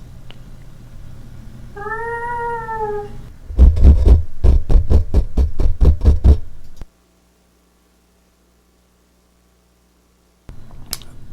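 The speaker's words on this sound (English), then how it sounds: "So let the cat in." A cat gives one drawn-out, wavering meow, then a burst of rapid wet squishy clicks follows, close and fairly loud, before a stretch of near silence and a brief final noise.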